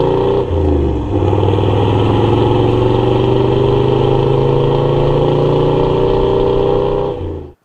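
Tuned car engine with a 3.5-inch stainless steel exhaust, catalytic converter and muffler, revving hard and holding high rpm for several seconds, loud and close with a deep droning tone, then cutting off abruptly.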